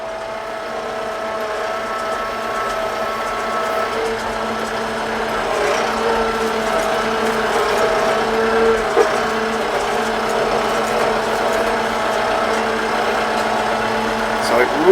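A TYM tractor engine runs steadily at a low idle, a continuous mid-pitched hum with a faint whine that grows slightly louder toward the end, with no talk over it.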